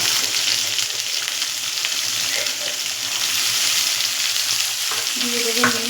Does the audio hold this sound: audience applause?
no